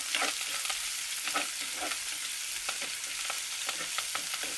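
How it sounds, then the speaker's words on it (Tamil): Onions and curry leaves sauté in a pan for dal sambar, giving a continuous close hiss of frying oil with repeated soft scraping strokes of a spoon stirring throughout, no voices. "இப்போ இது கொஞ்சம் பொன்னிறமாக வதங்கட்டு"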